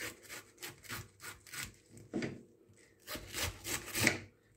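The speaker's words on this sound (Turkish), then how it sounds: "İlk olarak şöyle hemen kırmızı lahanamızdan başlayacağım ben. Şöyle keseceğim. Yarım olarak bir şekilde." A knife saws through a red cabbage to halve it, producing a series of quiet, scratchy rasping strokes in uneven bursts, heard close with no talk.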